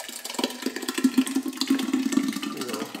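Crushed, already pumped whole-fruit mash for a 2023 wine batch being poured into a vessel, a steady wet gurgling pour with slushy splashes lasting about three seconds, no talking.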